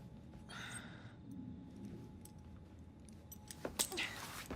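A brief metallic jingle of keys changing hands in Assassin's Creed Syndicate, heard near the end as a short bright rattle over quiet ambience, after a faint breathy sound earlier.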